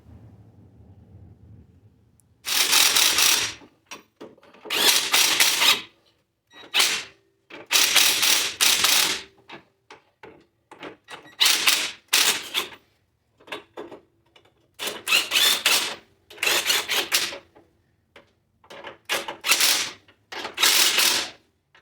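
Wrenching on a 1996 Ford Ranger's rear end: a ratchet or impact tool tightens a brake line and U-bolts with plates, about ten loud bursts of buzzing mechanical clicks, each lasting a second or so and separated by short quiet gaps.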